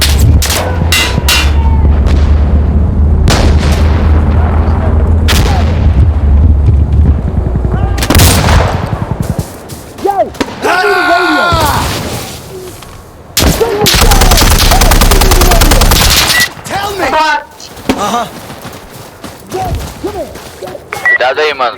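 Loud bursts of gunfire and explosions from an Insurgency Sandstorm match in a snowy map crowd the scene, with rapid shots, heavy booms and debris crackle coming in waves while players talk over the chaos.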